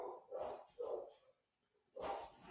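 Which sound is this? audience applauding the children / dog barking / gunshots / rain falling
dog barking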